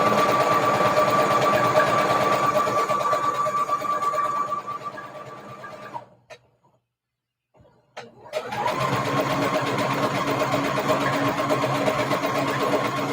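A sewing machine stitches a ribbon-trim tutu, keeping a one-inch channel, running in a steady mechanical whir that stops for about two seconds in the middle and then resumes at full level.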